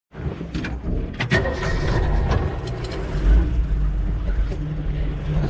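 A jeep rolls through the Maine woods, its steady engine rumble and road noise droning loudly from inside the cabin, with a few clunks and rattles early on.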